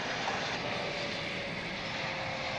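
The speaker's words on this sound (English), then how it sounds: "Here comes the 777 from London." A Boeing 777 airliner from London passes at DFW International Airport, its engines a loud, steady roar throughout with no speech.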